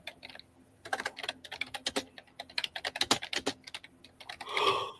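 Rapid clicking keystrokes on a Bluetooth computer keyboard, an uneven burst of close, crisp taps that comes in spurts with brief pauses, ending in a short, louder rustle.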